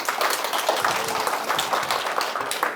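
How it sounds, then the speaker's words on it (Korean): Steady, dense applause from an audience at a Korean public science talk, welcoming a professor on stage; many hands clapping at once, continuous and moderately loud throughout, with no talking over it. "박수로 맞이해 주세요"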